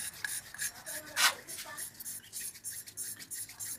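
A valve seat on a Suzuki Shogun 110 motorcycle engine is lapped by hand, giving a quick rhythmic gritty rasping and rubbing, repeated strokes close and fairly faint.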